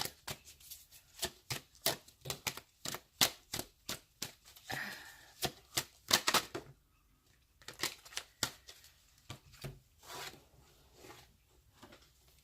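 Tarot cards are shuffled close by in a rapid series of crisp riffling bursts with short pauses between, with no talk over them.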